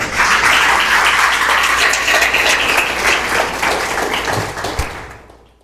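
A church congregation applauds steadily, dense clapping filling the space for several seconds before thinning out and fading at the end.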